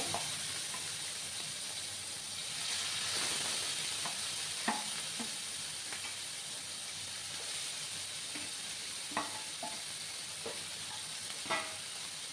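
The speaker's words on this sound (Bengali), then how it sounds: "এবার আমি চিংড়ি মাছগুলোকে দিয়ে ভেজে নেব।" Small shrimp frying in hot oil give a steady sizzle and hiss, with occasional stirring clinks and scrapes, close and moderately loud with no talking.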